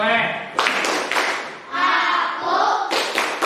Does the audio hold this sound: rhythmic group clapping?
yes